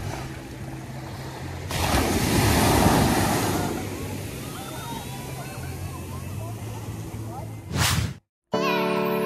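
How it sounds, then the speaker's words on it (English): Waves at Maho Bay Beach on St. John in the US Virgin Islands wash in as a broad surging rush that swells and fades, with a low background rumble, ending in a brief sharp gust and a cut. "This is actually Maho Bay Beach here."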